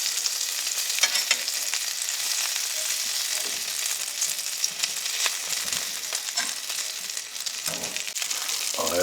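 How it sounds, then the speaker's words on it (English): Meat sears loudly in a hot pan, a continuous dense sizzle and crackle with occasional scraping or stirring, close and steady for the whole stretch. "Certainly a nice sear."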